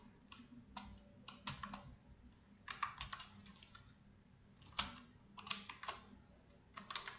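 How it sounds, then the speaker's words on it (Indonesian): Steady typing on a computer keyboard while Python code for a triangle area and perimeter program is entered, quick irregular key clicks in clusters, fairly close but quiet, with no talking. "Yang pertama kita ketik"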